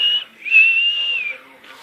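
A pet cockatiel gives a clear, high sustained whistle, first a short note then a longer held tone, close and alone with no talking.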